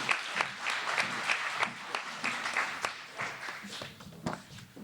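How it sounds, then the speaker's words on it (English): Audience at an all-candidates forum in Chestermere–Rocky View applauds for the candidates, a steady patter of many hands clapping at moderate volume, fairly sparse and uneven with a few louder individual claps standing out. "Go ahead and clap for the candidates."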